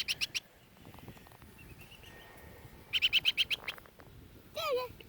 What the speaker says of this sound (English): it's a little baby birdie